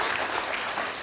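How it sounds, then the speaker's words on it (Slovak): A studio audience claps in a short, dense burst of applause, close and loud, briefly rewarding a choice of an Audi. "Potlesk je pre Audi."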